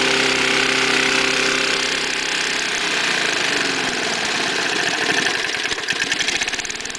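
An MTD Panzer lawn mower's small engine runs steadily up close, a loud continuous drone with a knocking, rattling texture that grows choppier toward the end.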